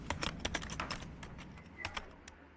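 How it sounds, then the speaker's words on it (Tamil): Computer keyboard typing at a desk, heard as quick, irregular clicking keystrokes close by, fairly quiet against a steady room hum, with short bursts and pauses in the rhythm. "டைப் பண்ணுற மாதிரி சவுண்ட் கேட்டுச்சா?"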